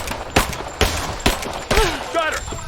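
Covering gunfire in the action game Rise of the Tomb Raider: sharp, loud shots in a ragged burst of about five reports, with a voice calling out between them.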